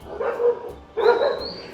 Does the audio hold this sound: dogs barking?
yes